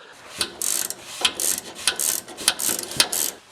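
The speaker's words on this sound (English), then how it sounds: "So I've opted for the 1 ratcheting wrench and little tiny vice grips to hold on to" A ratcheting wrench clicks in quick bursts of ratchet strokes while loosening two nuts on the brake cable of a Jeep CJ7, with close, sharp mechanical clicks separated by short pauses.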